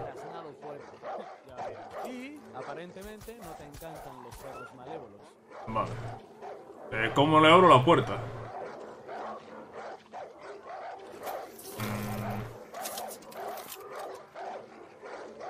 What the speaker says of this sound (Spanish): Escucha a los perros de ladrar a tope